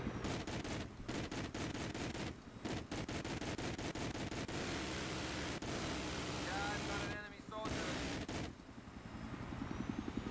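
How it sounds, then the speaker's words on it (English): Helicopter machine gun fire in Battlefield 3, long rapid rattling bursts broken by short gaps over a steady rotor and engine drone, loud and close. "it's got some pretty awesome machine guns, as you'll see in a second here"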